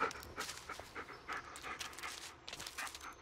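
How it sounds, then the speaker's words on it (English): Bullet the dog panting and sniffing in a dark Blair Witch game forest, quick breathy pants and snuffles in bursts close to the listener, with no talking. "All right, we're following the dog."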